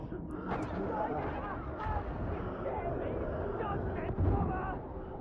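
Heavy gunfire in a video game, with repeated shots and blasts of artillery-like fire running continuously under a player's excited talk.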